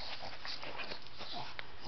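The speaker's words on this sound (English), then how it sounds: "Bulldogs do the snorting." A bulldog snorts and sniffs close by, with short wet nasal snuffles and a small whimpering yip over a steady background hiss.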